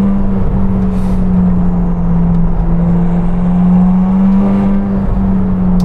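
A McLaren 707hp grand tourer accelerates hard as its turbos spool, making a loud, close, steady engine drone that holds throughout with no talking.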